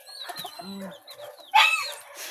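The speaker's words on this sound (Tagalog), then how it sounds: "Na mga manok na dira tanan." Texas breed chickens cluck and chirp close by, with a louder squawk partway through, over a busy background of other bird calls.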